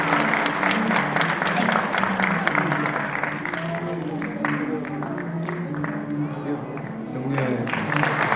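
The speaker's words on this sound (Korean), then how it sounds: "큰 박수로 축하해 주시기 바랍니다." Sustained applause from a seated audience at a 2012 university graduation ceremony after an award presentation, steady dense clapping filling the hall throughout with a few faint voices beneath.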